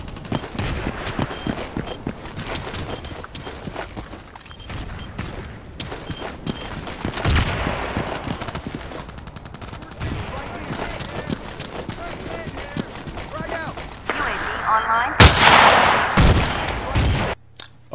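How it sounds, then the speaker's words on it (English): Sniper rifle shots in Battlefield 2, single sharp cracks spaced apart amid a busy mix of other gunfire and battle noise, with a louder burst near the end. "let's start off with the sniper rifle"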